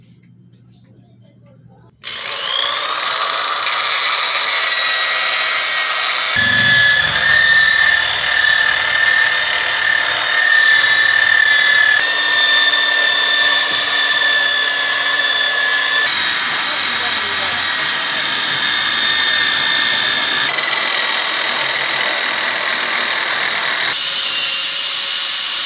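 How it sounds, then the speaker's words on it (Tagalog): A steel brush scours old paint off masonry. After a quiet opening, a loud, steady, whirring abrasive scrape starts and runs without a break to the end. "Babalahan ng ano, ng steel brush para matanggal lang yung pintura."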